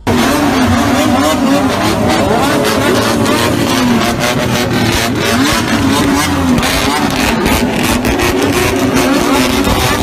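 Loud, continuous motorcycle engine roar from a biker gang parading through city streets, with repeated revving surges, dense and close throughout.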